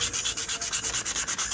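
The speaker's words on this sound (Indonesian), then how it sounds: "Kita amplas ya pakai ber 400 lah" Steady back-and-forth rasping of 400-grit sandpaper on a carved golok handle, close and loud, with a regular stroke rhythm of about six to seven passes per second and no talk.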